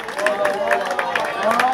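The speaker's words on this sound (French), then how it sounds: "applaudissements Florian Sénéchal" Audience applause for cyclist Florian Sénéchal at the Guidon d'Or 2015 awards event in Hellemmes, Lille, a moderate wash of clapping and crowd murmur running beneath a continuous voice.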